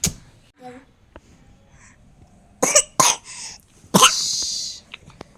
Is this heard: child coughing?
yes